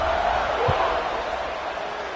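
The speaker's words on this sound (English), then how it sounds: "this crowd is buzzing after that last score" A packed football stadium crowd in a video game keeps up a steady, dense roar just after a score, an even background murmur with a brief low thump partway through.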